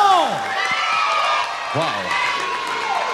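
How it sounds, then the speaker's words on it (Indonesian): A crowd at an outdoor Pantura village sintren and comedy show in Dadap Lama claps and cheers continuously, with voices calling out over the noisy applause throughout. "maka kami minta tepuk tangan dulu"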